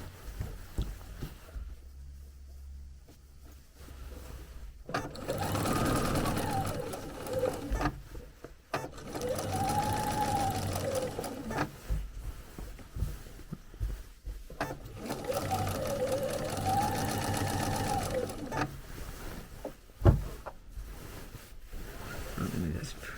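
A sewing machine zigzag-stitches around a Christmas quilt in long continuous runs with short pauses between them, close and steady, while a person talks over parts of it.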